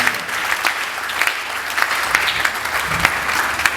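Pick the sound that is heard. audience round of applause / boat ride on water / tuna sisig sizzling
audience round of applause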